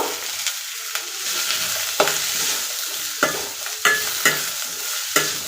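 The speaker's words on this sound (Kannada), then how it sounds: "ಈರುಳ್ಳಿ ಸ್ವಲ್ಪ ಗೋಲ್ಡನ್ ಕಲರ್ ಬರೋವರೆಗೂ ಫ್ರೈ ಮಾಡ್ಕೋಬೇಕು." Sliced onions frying in oil until golden for a dhaba-style paneer curry: close, continuous sizzling hiss broken by repeated sharp scrapes of a spatula stirring the pan, with no voices.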